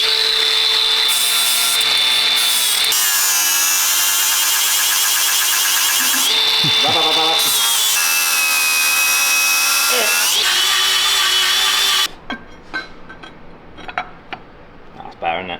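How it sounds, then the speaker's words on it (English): Flap disc on an angle grinder sanding metal on a Land Rover Defender 110, a loud continuous whine with shifting pitch that runs steadily for about twelve seconds, then cuts off into quieter clatter. "So I'm gonna get in there with a flapper."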